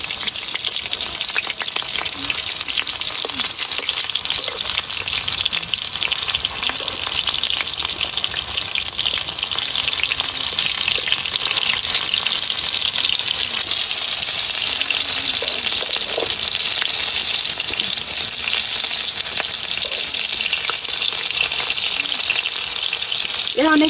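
Spiny gourd (kakrol) fritters sizzle and fry steadily in a pan of hot oil at a village cooking setup, a continuous close crackling hiss with no speech.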